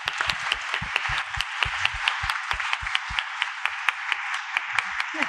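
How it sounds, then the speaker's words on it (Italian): Audience at an author talk applauding the book's translators, steady close clapping from a modest crowd with distinct individual claps standing out throughout, no speech. "un applauso ai traduttori"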